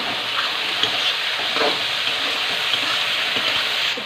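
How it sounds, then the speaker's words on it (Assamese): Chopped tomatoes frying and being stirred in a pan for a fish curry, giving a steady close sizzle with soft scraping stir strokes throughout, no voices. "এতিয়া দিবলৈ ওলাইছোঁ কাটি থোৱা বিলাহীখিনি। এইখিনি অকণ লৰাই দিওঁ।"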